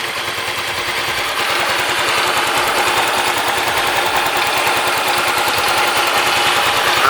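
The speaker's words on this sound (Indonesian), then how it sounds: "Knalpotnya halus banget menurut gue suaranya." Small Yamaha Mio Z 125 scooter engine idling steadily with a smooth, even exhaust putter, close by and continuous throughout.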